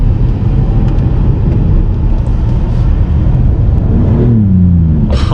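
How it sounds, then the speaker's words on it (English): From inside a 2020 Karma Revero GT, the BMW 3-cylinder engine hums under a constant loud road and wind roar, with its tone rising audibly as the car accelerates near the end. "hearing that BMW 3-cylinder kick in, it actually has a pretty damn good exhaust note, especially for a 3-cylinder engine"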